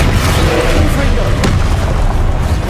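A Confringo blasting spell explodes in Hogwarts Legacy as a loud, booming burst inside dense, continuous game noise, with a voice present.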